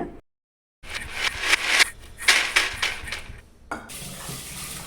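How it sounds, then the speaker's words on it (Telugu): Rice being washed with water at a kitchen sink, with bursts of splashing and running water and some clinking of a vessel after a brief moment of silence. "సంగటి కోసం రైస్ కడిగి పెడుతున్నా"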